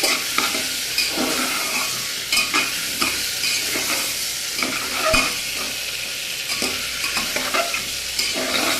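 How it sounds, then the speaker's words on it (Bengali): Vegetables are stirred and fried in oil with panch phoron for a vegetarian khichuri, giving a steady close sizzle broken by repeated scraping and clinking of a spoon against the pan, with no talking. "সবজিগুলোকে প্রথমে একটু নেড়ে করে নেবো হালকা।"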